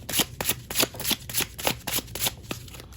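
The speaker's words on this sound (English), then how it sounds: "I'll give it a shuffle just because I didn't even shuffle on camera for you guys." A deck of tarot cards being shuffled by hand, about a dozen quick riffling bursts in a steady rhythm, close and crisp with no talking.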